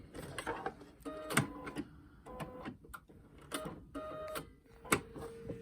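A sewing machine stitches forward and then back-stitches across a fabric face mask in short, close, quiet bursts of rapid whirring separated by brief pauses.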